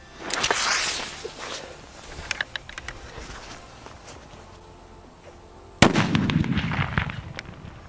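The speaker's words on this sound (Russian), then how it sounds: "последнее, что мы взорвем в этом видео, это вот такие вот петарды мега-бомба К1213" Mega-bomb K1213 firecrackers, the most powerful of a New Year set, exploding outdoors: a sharp loud blast with rolling rumble, scattered crackles, then a second heavy detonation followed by debris patter and echo.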